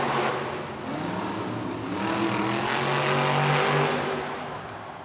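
Monster Jam monster trucks roaring around an arena floor at a Los Angeles event, loud sustained engine revving that swells and holds, with crowd noise underneath.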